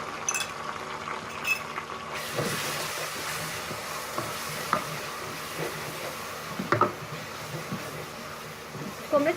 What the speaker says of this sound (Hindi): अब इसमें हम लहसुन अदरक का पेस्ट ऐड करेंगे।